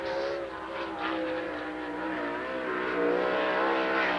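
Sprint car at Lernerville Speedway dirt oval, its engine droning loud and steady at speed, holding high revs through the lap without a break.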